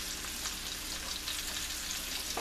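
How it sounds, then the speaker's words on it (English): Onions frying in oil for a vegan gochujang tofu stir fry, a steady close crackling sizzle holding at an even level with no talking. "I want these onions to get nice and well cooked, so I'm going to let them sit for a little bit longer."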